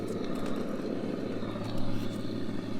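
Engine sound effect played from a speaker on an RC car, a steady buzzing motor drone that continues throughout at moderate level, heard alone.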